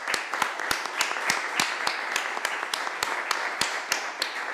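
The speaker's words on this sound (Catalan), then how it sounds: "amb un aplaudiment li volem agrair la seva participació" Sparse audience applause at a conference on foundations in Catalonia, with distinct individual claps ringing out in a steady, uneven rhythm at moderate distance.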